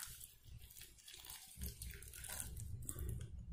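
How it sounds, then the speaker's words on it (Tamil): Water poured into a pot of hotel-style sambar, a faint, uneven splashing and trickling that grows fuller in the second half, heard close with no talking. "அப்புறம் பார்த்திங்கன்னா தண்ணி ஊற்றிக்கலாம்."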